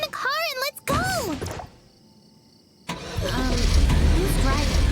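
A car engine starts and revs in Tower of Fantasy after character chatter, then a short quiet gap before the engine rumbles into a steady, loud idle and drive that fills the rest of the clip.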